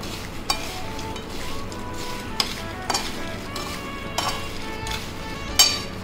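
Finely chopped onion and capsicum fry in a pan under a soft, constant sizzle, with a spatula clinking and scraping against the pan several times.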